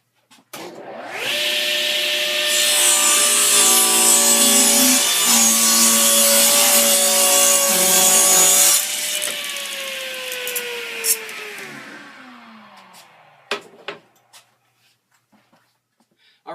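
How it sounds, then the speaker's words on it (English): A Delta 36-725 table saw spins up with a loud whine and cuts wood with a harsh, steady rasp, then winds down slowly, followed by a few clunks. "I'm not going to lower the volume so you can hear exactly what this saw sounds like"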